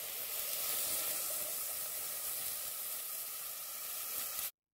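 Water poured into a hot pan of sautéed shrimp shells and heads with garlic and lime leaves sets off a loud, steady sizzle and hiss that runs unbroken and then cuts off abruptly.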